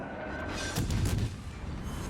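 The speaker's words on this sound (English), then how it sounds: "And our torps go in for another devastating strike" Torpedo hits striking a warship in the naval battle game World of Warships, a muffled deep boom that swells and rumbles briefly over steady background game ambience.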